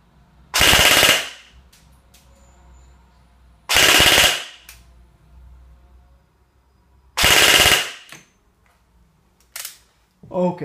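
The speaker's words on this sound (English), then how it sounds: "you can hear the gun is much snappier when you just shoot" An airsoft gun fires three full-auto bursts, each about a second long, on an 11.1V LiPo battery, with a fast, snappy buzzing rattle, loud and close, separated by quiet gaps.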